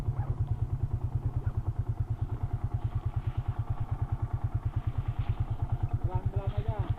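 A motorcycle idles nearby at a toll stop on a forest road, a loud even low thumping pulse throughout, with people speaking briefly over it.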